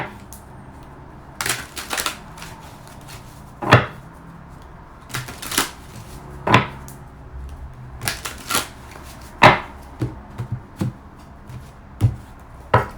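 Playing cards shuffled in repeated bursts, crisp riffling flutters and taps coming every second or two, close and fairly loud, with no talking.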